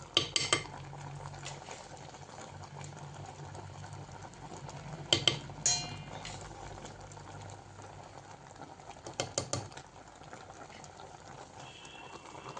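Jackfruit puzhukku with turmeric and rock salt is stirred in a pot: a few clinks and scrapes of a utensil come in small clusters over a quiet, faint simmering background.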